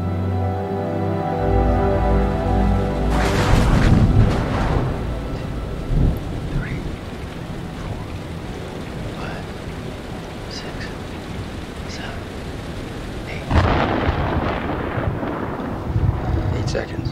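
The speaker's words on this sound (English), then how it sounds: "The storm's 8 miles away." Thunder rolls and booms twice over steady, hissing rain in a thunderstorm within the horror video game Man of Medan, with rumbles near and loud against the constant downpour.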